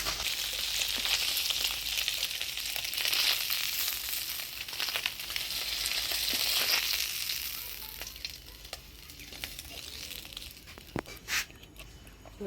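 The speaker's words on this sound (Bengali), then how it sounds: "কই মাছগুলোও ভাজি নিব তেল কই রান্না করার জন্য" Koi fish frying in oil in a Bengali village kitchen, a steady close sizzle and hiss that eases off toward the end, with a few sharp clicks and crackles and no talk.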